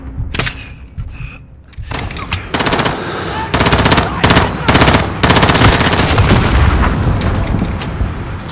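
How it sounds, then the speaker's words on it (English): Loud, sustained automatic gunfire in a Call of Duty Modern Warfare battle, with dense bursts of rapid shots and booming impacts that build after the first couple of seconds, while soldiers shout orders over the din. "Get fire on that RPG, Garrick"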